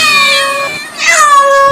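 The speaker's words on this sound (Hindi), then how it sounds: "हमारे घर के आगे पीछे इतनी बिल्लियाँ क्यों रो रही हैं?" Several cats cry and meow in drawn-out, wavering wails around a house at night, one call fading before another rises, loud and close with no talking.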